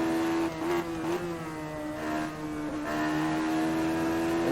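A Radical SR3 race car engine in a racing game drones at high, steady revs, a dense buzzing whine that dips and climbs slightly with gear changes and throttle, loud and continuous with no talk.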